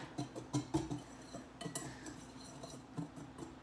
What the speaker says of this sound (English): we're gonna whisk this together